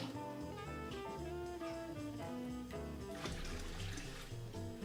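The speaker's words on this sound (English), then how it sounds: "But I need to send the rest of this water in." Water rushing from a line into a home brewing system for an English golden ale, a continuous close gushing and splashing flow lasting throughout, with no voices.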